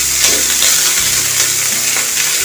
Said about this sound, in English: using our wooden stick, we're just going to stir it like this